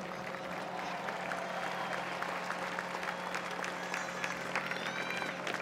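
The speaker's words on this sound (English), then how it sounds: "we can have a round of applause, please." A crowd applauds at the 2014 Giants World Series championship celebration, faint and distant clapping spread evenly over a steady low electrical hum.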